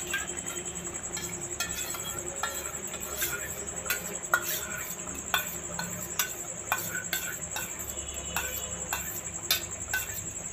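Yogurt being added and stirred into simmering pointed gourd gravy, a spoon scraping and clinking steadily against the pan over a soft bubbling hiss, close and moderately quiet with no talking.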